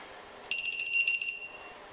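SwitchBlade charger's balance-lead beeper giving a quick run of about six high, clear electronic beeps, loud and close, trailing off at the end.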